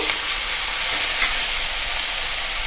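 Chicken masala frying in a pan as tomato goes in and is stirred, giving a steady, close sizzle with faint scraping throughout.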